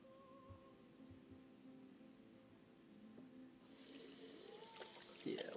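A tap running hot water for handwashing, a quiet steady hiss that swells partway through, with faint clicks and soft background voices.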